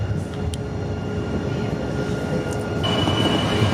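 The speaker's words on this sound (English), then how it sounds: "an outbound Green Line train is making its way to Clackamas" An outbound Green Line light-rail train moves through Portland Union Station, a steady close rumble with faint wheel squeal and a thin tonal whine that steps up near the end.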